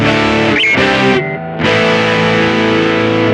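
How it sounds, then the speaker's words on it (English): A guitar runs through a Boss GR-D hex fuzz distortion, giving loud, thick sustained chords with a brief near-silent gap in the middle before the fuzzy tone swells back in. "So let's listen to what the GR-D sounds like."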